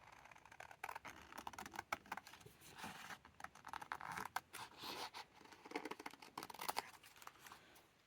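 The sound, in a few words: scissors cutting out a paper leaf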